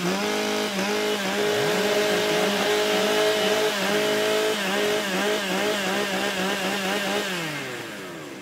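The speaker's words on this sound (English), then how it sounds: "Warm up your saws." Several STIHL chainsaws warm up at a timbersports rookie championship, engines revving loudly and overlapping in rising and falling pitches before easing off at the end.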